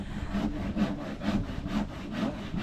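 A handsaw cuts through wood during a demolition and salvage job, its strokes rasping in a steady back-and-forth rhythm, about five clear passes, close and fairly loud with no talking.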